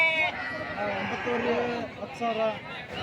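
Lambs bleat in a sheep market, with several short wavering calls rising over steady market chatter and people talking close by throughout.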